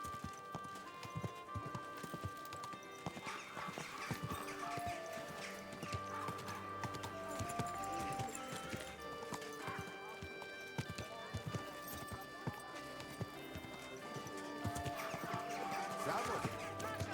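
Rhythmic horse hooves clopping steadily over a bed of game music in Kingdom Come: Deliverance II, with an occasional whinny; no one speaks during it.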